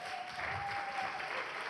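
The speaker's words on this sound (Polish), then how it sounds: "Gorące brawa" Faint, distant applause from an audience at a jubilee panel discussion, a soft continuous patter with a thin steady tone running through it.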